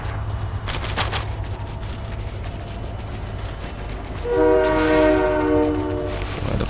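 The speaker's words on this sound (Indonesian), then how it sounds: "Ada kereta." A train rolls past in Fortnite Chapter 5 with a steady low rumble. A harmonic horn-like tone swells in near the end, joined by scattered sharp clicks and bangs that could be gunfire. No one speaks.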